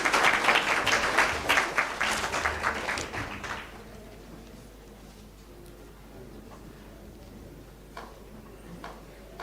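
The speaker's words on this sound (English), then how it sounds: "We can clap for them as they get the photos." Audience at a panel event on data, policing and privacy claps for a photo moment, a dense burst of applause that fades out after a few seconds, leaving scattered faint claps in a quiet room.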